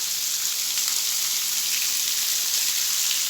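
Water falls from above like heavy rain in a cave near a waterfall, a dense, steady hiss of splashing drops that stays close and constant throughout.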